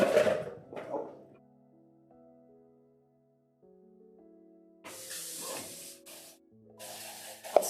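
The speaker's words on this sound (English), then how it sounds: "Just a rinse with the spray nozzle" Short bursts of hissing water spray from a nozzle rinse soap, coming in two strong blasts near the end after quieter stretches with a faint tonal hum and some handling noise at the start.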